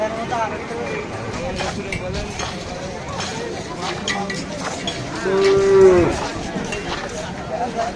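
Cattle at a crowded Eid livestock market in Khulna low, with one clear drawn-out moo rising near the end over a constant murmur of voices and bustle.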